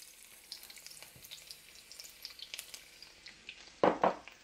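Garlic and onions go into hot sesame seed oil in a pan for a vegan jackfruit coconut curry, giving a steady close sizzle with small crackles and a louder splash of hissing near the end. No one talks.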